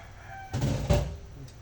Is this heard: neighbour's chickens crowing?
yes